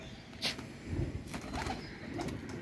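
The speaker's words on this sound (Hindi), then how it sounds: "ये कबूतर तैयार किए हैं जो कल हमने काम पे भेजने हैं" Pigeons coo softly in short, soft phrases, with a faint rustle or flutter nearby and no talking.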